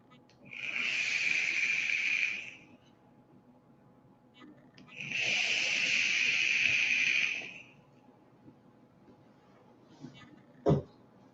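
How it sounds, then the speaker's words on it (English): An ultrasonic cleaner polishing a coil runs in two hissing bursts of about two seconds each, separated by quiet, followed by a few faint clicks and a short knock at the end. "Let me get it out of this ultrasonic cleaner real quick."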